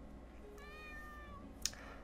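A white cat in the snowy horror video game Nightmare Of The Snow lets out a single clear meow over a quiet, droning game ambience, followed by a brief sharp click.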